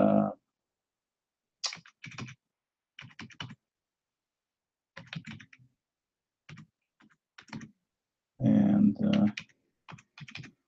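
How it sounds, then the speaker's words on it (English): Keys tapped on a Chromebox keyboard while entering a Wi-Fi password, close and crisp, in irregular short bursts separated by pauses. "So if the keyboard works, I need to put in the password"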